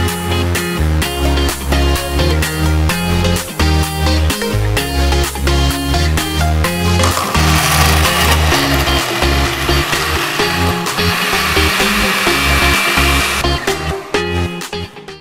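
Kitchen blender churning a banana and peanut milkshake with unsweetened coconut milk, a loud continuous motor whir with rhythmic chopping pulses that holds steady throughout, with no speech over it.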